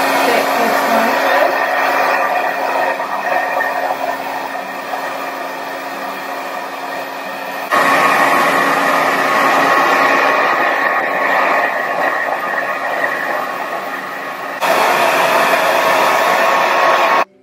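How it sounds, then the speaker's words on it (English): A hair dryer blows with a steady, loud whooshing whine, its tone shifting twice as the setting or angle changes, then cutting off abruptly. "Taking my blow dryer, I'm just going to blow my hair back"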